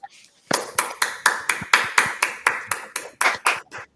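Steady rhythmic audience claps at a summit, about a dozen evenly spaced, loud and close, starting after a brief quiet moment.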